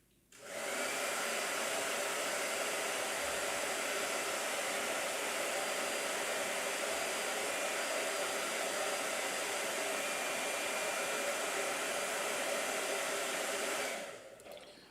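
A hair dryer runs continuously at close range to dry paint, switching on with a quick rise into a steady loud whooshing roar that holds unbroken for about thirteen seconds before cutting off.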